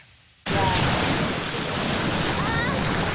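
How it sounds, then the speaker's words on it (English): After a brief quiet moment, a loud, steady wash of lake surf and wind noise fills the air at a summer beach, with faint voices in the distance. "Waves, kids splashing, and the hum of boats."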